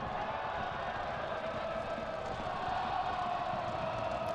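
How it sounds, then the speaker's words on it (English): A Fresno FC soccer crowd at a USL Championship playoff match sings in support, a steady, distant wash of massed voices holding a droning chant throughout, with no clear breaks. "Crowd still singing, giving them plenty of support, Fresno."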